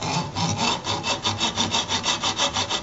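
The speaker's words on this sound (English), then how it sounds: "Get ourselves a hacksaw, and we're just going to cut a small groove in the end" A hacksaw cuts a small groove into the end of a float post, with rapid, even back-and-forth rasping strokes heard close and alone.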